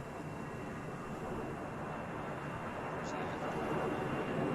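Aircraft engine in Arma 3 spooling up, a steady, dense broadband roar holding at a constant level and swelling slightly toward the end, with no clear voice over it.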